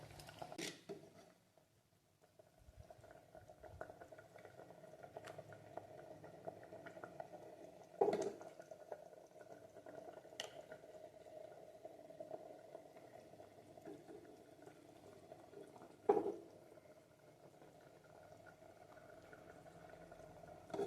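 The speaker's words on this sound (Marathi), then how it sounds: "आता या भाजीला उकळी आली" Chakwat wild leafy greens curry boils in a pot with a steady, soft bubbling simmer throughout. Two sharp clicks stand out against the quiet background.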